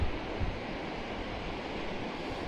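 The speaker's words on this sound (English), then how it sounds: "That's a dramatic ocean right there." Ocean surf along the Aomori coast, a steady, full wash of breaking waves and churning water close by, mixed with wind buffeting the microphone, continuous and fairly loud with no voices.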